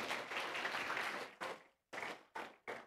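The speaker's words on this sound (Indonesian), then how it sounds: "Boleh tepuk tangan untuk The Dreamers?" At an elementary school graduation, an audience applauds the graduating students. The clapping is faint and heard from a distance, a short burst that breaks off into several brief, clipped bursts.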